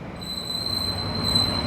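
A railway train's wheels squeal steadily on the track, a loud sustained high-pitched metallic screech over a low rolling rumble, alone for a short stretch.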